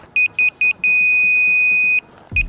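A laser level receiver on a house build site beeps three short times, holds one long steady tone, then goes quiet before a sharp knock and more short beeps.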